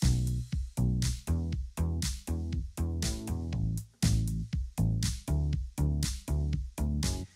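Four stacked bass synth layers processed together in Logic Pro play a loud, punchy rhythmic pattern of repeated pulsing notes with short gaps, dense and full, with no talking.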